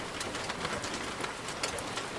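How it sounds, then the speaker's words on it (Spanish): Light, fine rain patters steadily against the glass windows of a house, a dense even hiss of tiny drops, close and continuous with no voices. "una fina lluvia había comenzado a golpear los cristales de la casa"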